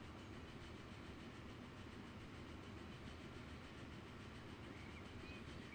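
A train in the Transport Fever 2 video game rolls along the track, a faint, steady rumble with soft rhythmic rail clatter throughout.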